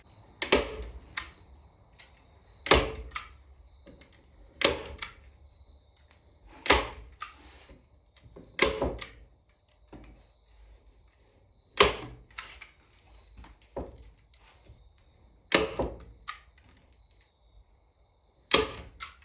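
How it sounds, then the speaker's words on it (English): A staple gun drives staples through indoor-outdoor carpet into a wooden organizer, a series of sharp, loud snapping clacks at irregular intervals of one to three seconds, with quiet handling noises in between. "I got the staple gun"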